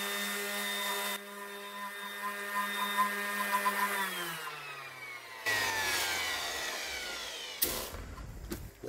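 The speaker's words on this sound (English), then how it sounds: "I'll turn the volume down on the sanding, but I'll just run it over there." A power sanding disc whines and grinds against the old wood of a 100-year-old vintage mandolin being stripped, its pitch sliding down as it slows, then bursting back with rough, scraping noise.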